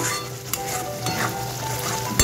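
Spice masala with sugar being stirred and fried in oil in a pan for a bottle gourd kofta curry, with a close, continuous sizzle and scraping, a sharp utensil clink near the end.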